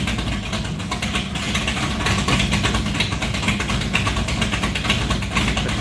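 A 1968 Plymouth Barracuda engine idles at its first start-up, a steady low rumble holding even and continuous with no revving and no talk over it.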